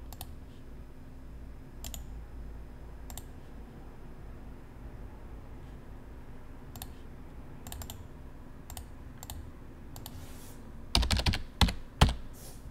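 Sparse keystrokes on a computer keyboard while entering zip codes into a vehicle posting form, single taps spaced apart over a low room hum, ending in a quicker, louder burst of clicks; nobody speaks.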